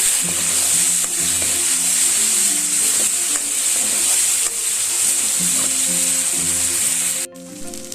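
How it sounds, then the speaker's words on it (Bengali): Spice masala with turmeric fries and is stirred in a pan for a foli fish curry, giving a steady close sizzle with occasional spatula scrapes beneath background music that cuts off near the end. "একটু ভালো করে আমি মশলাটা কষিয়ে নেব"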